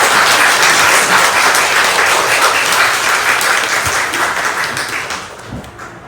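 A church congregation gives loud, sustained applause at a Korean worship service, dense clapping that fades slightly toward the end.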